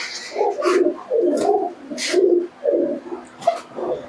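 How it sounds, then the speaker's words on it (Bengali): Giribaj pigeons in a cage coo close by in a run of about seven short, throaty bursts separated by brief pauses. "এরপরে আরো এক জোড়া গিরিবাজ কবুতর তোমাদেরকে দেখায়"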